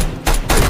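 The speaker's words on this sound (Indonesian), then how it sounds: "tiba-tiba mereka diserang oleh beberapa orang dan mereka ditembaki" Gunfire in an action film ambush: two loud, sharp bursts of shots in quick succession within under a second, with no speech.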